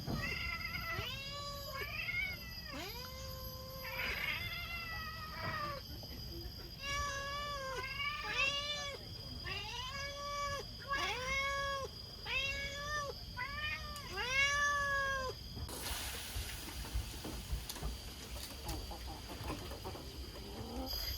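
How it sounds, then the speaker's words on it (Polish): Several cats meow repeatedly and insistently aboard a boat in the Borneo jungle while waiting for fish, their overlapping rising-falling cries close and clear, then giving way to a broad hiss of background noise near the end. "Dzisiaj przy obiedzie towarzyszą nam koty"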